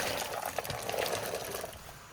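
Roasted chestnuts tumble into water with a brief splashing, gurgling rush, close and continuous for a couple of seconds before easing off.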